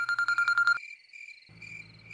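A telephone rings with a call from the caterer, a rapid warbling electronic ring in a quick burst of pulses for under a second, followed by a quiet pause and then faint low background hum; no one speaks.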